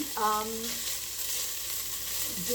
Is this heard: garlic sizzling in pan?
yes